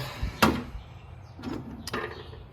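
Drawers of a small portable tool cart slide and knock shut in a few brief clunks, close by and moderately loud, with no talking.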